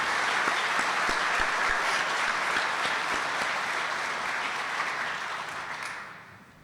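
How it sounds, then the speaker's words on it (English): Applause at a Catholic high school campaign kick-off event for two freshmen stepping up to speak, a dense crowd clapping at an even level that holds for several seconds and then tapers off near the end. "Let's give them a round of applause for stepping up to do this."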